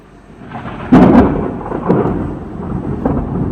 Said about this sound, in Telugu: మళ్ళీ థండర్ స్టోమ్, లైట్నింగ్ అన్నీ స్టార్ట్ అయిపోయాయి అనమాట